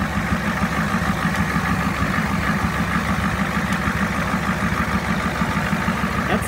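A 1989 Ford F-350 with a hot 7.3 diesel engine idles nearby. Its steady, rapid low knocking pulse carries on evenly throughout, with no talk.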